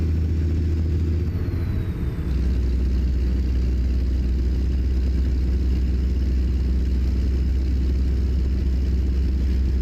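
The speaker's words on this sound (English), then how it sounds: "Awesome sound of 625 horsepower." A Kenworth W900 truck with a 625-horsepower engine, as rendered in a driving video game, rumbles with a loud, deep, steady drone that shifts slightly early on and then holds an even, throbbing idle-to-cruise tone with no talk.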